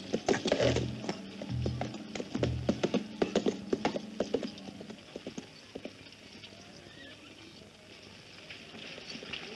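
Horse hooves clip-clop in an irregular series of sharp knocks, close and clear at first, then thinning out and fading over a quiet background.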